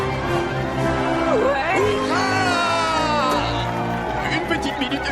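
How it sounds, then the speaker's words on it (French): Crowd at a film party cheering and whooping for the cup-winning team, loud shouts and hubbub with voices talking over it. "Applaudissez tous bien fort les gagnants de la coupe"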